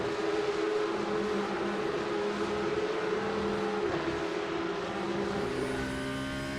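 Porsche Cup race car in the iRacing sim, its engine droning loud and steady throughout, with harmonic tones that hold and shift as the revs change and no voices.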